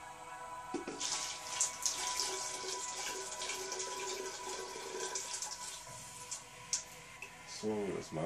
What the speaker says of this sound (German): Ich schütt mal wieder ein bisschen Wasser zurück hier in den Pott.